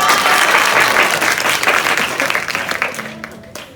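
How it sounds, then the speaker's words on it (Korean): Loud, dense audience applause at a Korean talk concert, a steady wash of many hands clapping that thins and fades over the last moments. "박수!"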